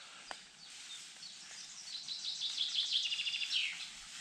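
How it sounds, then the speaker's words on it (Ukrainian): Several birds sing in a deciduous forest in May, with high chirps and twittering trills that build gradually into a busy chorus, soft and somewhat distant over a quiet background. "Як гарно птахи співають."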